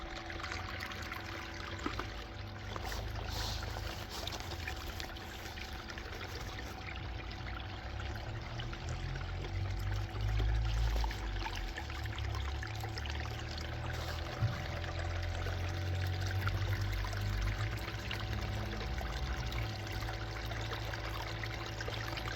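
Steady, quiet rush and trickle of water running through a gold sluice with matting and riffles, a continuous broadband flow with no breaks and a low hum underneath.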